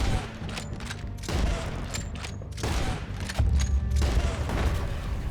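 Gunshots in a woodland shootout in Red Dead Redemption 2 during slowed Deadeye targeting, several loud booming shots spaced over a few seconds amid a rumbling, echoing background.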